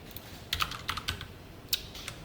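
Rapid, irregular clatter of keys on a computer keyboard while C code is typed, quiet and close, in short bursts with brief pauses.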